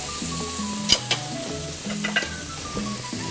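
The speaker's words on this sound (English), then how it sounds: "We'll add the peppers, the onions, the garlic first. We'll saute those for a little bit." Peppers, onions and garlic sautéing in a pan for ropa vieja, a steady close sizzle with occasional clinks and scrapes as they are stirred, no voices.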